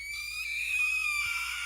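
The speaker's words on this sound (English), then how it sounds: "The rabbit screams, a shrill, phlegmy wail that's so loud that I have to slap my hand to my ears." A rabbit in the video game Our Wonderland lets out a shrill, phlegmy, piercing scream, one sustained, loud wail that rises slightly and holds for nearly two seconds without any voices over it.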